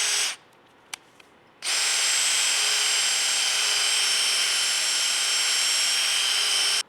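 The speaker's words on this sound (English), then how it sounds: "polish off just the end of this a little bit with some Scotch-Brite and just chuck it up in my drill" A power drill holding a part being polished with Scotch-Brite whirs briefly, stops with a couple of light clicks, then runs again in a loud, steady high-pitched spin.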